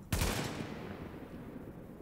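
Gunfire in the video game The Division: a single loud, sharp shot bursts out, and its echo rings away and fades slowly across the rest of the moment.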